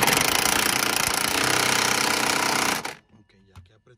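A power tool tightens the rear shock absorber bolt on a 2000–2004 Nissan Pathfinder with a loud, steady, hammering mechanical rattle for nearly three seconds, then cuts off abruptly, leaving only a few faint clanks.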